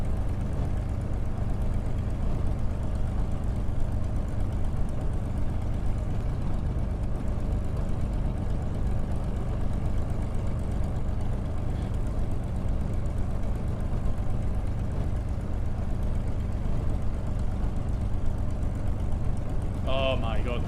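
A bus engine idles in Microsoft Flight Simulator, a steady, low, droning rumble that stays close and continuous without a break, with a brief higher tone near the very end.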